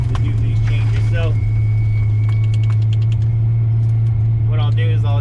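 A car fitted with a Precision 8685 turbo and Haltech engine management drones at a steady low idle, close and loud, while it eases off the road onto the shoulder, with someone talking over the engine throughout.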